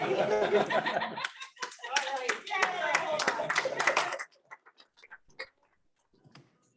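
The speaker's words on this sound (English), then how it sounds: "Only one clap. No, she gets all of them." A Rotary club meeting audience claps together for an introduced guest: a dense burst of applause lasting about four seconds, then a few scattered claps and quiet murmurs trailing off.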